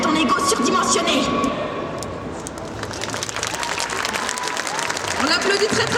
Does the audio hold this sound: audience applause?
yes